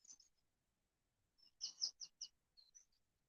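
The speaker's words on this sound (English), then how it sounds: "can hear all the birds. They are singing like crazy" Several birds chirp and trill in short bursts amid quiet, a sparse, clear morning chorus of calls at moderate distance on a farm.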